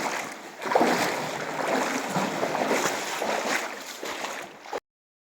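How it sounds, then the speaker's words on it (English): River water flows steadily over sand inside a pitch-black honeycomb cave, a close, continuous rushing wash that rises and falls slightly and then cuts off abruptly, with no talk. "This is the river."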